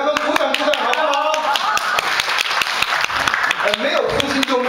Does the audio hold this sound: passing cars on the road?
no